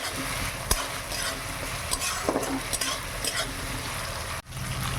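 Ginger frying in a pan for a Bengali mung dal with rohu fish head, a steady close sizzle with scraping stir strokes and a sharp clack near the end, no talk.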